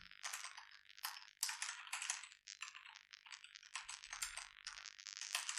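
Rapid, close computer-keyboard typing of JavaScript code runs in steady bursts of light clicks with brief pauses, fairly quiet and without any voices.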